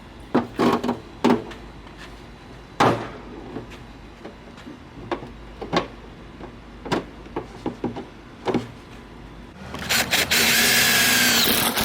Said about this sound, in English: By the way, that is 3 1/4 inch, 3 inches and a quarter hole saw.